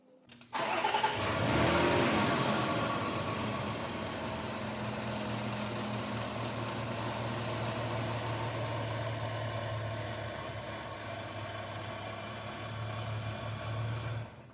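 A Jaguar Land Rover engine with cam/crank timing correlation fault codes P0016–P0019 cranks briefly, catches with a loud burst, then settles into a steady, even idle that carries on to the end, with no voices.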